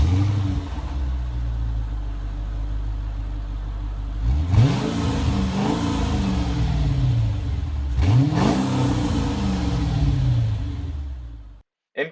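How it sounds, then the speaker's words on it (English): A Mercedes SL55 AMG engine idles with a throaty rumble through Brabus mufflers, then revs sharply twice, each rev rising and falling back, loud and close. "Listen to those Brabus mufflers."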